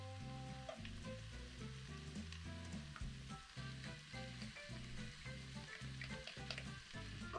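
Ground burger meat and garlic fry with hash in a pan, giving a steady sizzle that runs throughout, joined by rhythmic tonal backing music.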